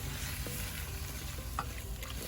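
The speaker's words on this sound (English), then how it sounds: "Let's get those tomatoes stirred in." A spoon stirs tomatoes into chili beans in a pot on an Oklahoma Joe Bronco, giving a close, continuous bubbling simmer with soft scraping clicks and no talking.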